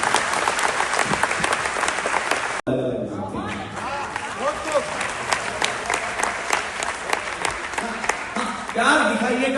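Dense, loud applause fills a Holi comic poetry gathering (hasya kavi sammelan) at the Hindustan Club, then cuts off abruptly, and a speaking voice follows.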